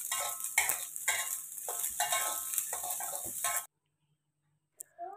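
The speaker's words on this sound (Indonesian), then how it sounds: "Ini untuk nasi goreng yang biasa aja tanpa kecap, cuman pakai telur sama bumbu lainnya." A spatula stirs plain nasi goreng with egg and spices, no soy sauce, in a hot frying pan, the sizzling scrapes and clinks close and busy for several seconds before cutting to near silence.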